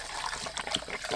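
Water from a hose or tap splashing and gushing into an open tackle box to rinse out corrosive salt water, with an uneven spattering flow that stays close and moderately loud.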